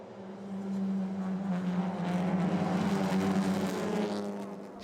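TCR touring race cars power through Lesmo 1 at Monza, a loud sustained engine drone building and holding as the cars pass, with a strong steady tone and no talk.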